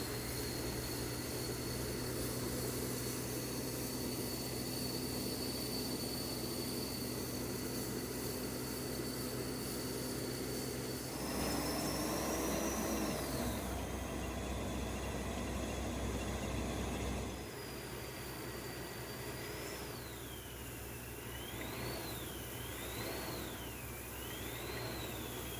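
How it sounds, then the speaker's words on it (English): A gravel conveyor truck throwing gravel at a house build site runs as a steady, continuous mechanical drone. Its pitch rises and falls as the machine works, with no voices over it. "at which the conveyor moves, and that makes the gravel go further out or closer in depending on where he wants it to land"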